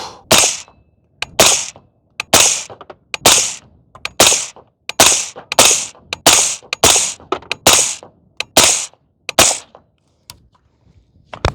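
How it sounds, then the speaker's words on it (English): About a dozen rifle shots ring out at a target 50 yards away, each a sharp, loud crack with a short decaying tail, fired at a steady, slightly uneven pace about a second apart. "Roughly about 12 shots at 50 yards."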